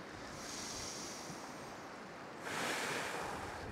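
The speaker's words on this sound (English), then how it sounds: "Even if the wind is picking up and the rain is coming," Strong wind gusting over the sea off a Nordic island, a steady broad rush with surf that swells louder partway through, with no voices.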